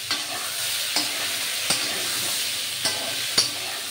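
Ridge gourd and potato cooking in a pan hiss under a steady sizzle, broken by a few sharp spoon knocks and scrapes at irregular intervals as the mix is stirred.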